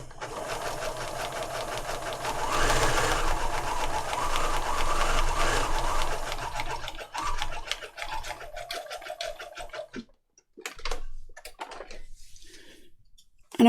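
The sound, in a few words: sewing machine stitching wide zigzag with white thread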